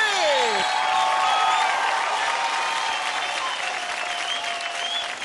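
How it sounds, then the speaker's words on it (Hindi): A television dance competition studio audience bursts into sustained, loud applause, dense even clapping holding for several seconds with a faint crowd murmur. "तालियां बजाइए"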